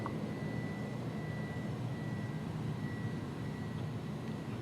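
Airbus A300 jet engines roaring steadily at takeoff power in X-Plane 11, a loud continuous broadband rumble with a faint whine, no talk.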